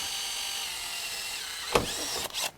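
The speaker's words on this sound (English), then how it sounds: "we're gonna start getting our header seal out by drilling out the 3/16 rivet" A power drill with a 3/16 bit whirs steadily at close range on a Jeep Wrangler JK, then a sharp clunk as it bites through a rivet, followed by a brief stop and restart.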